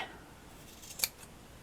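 Scissors make a single crisp snip while trimming a purple velvet fabric cluster flower patch, a faint, close cut in an otherwise quiet room.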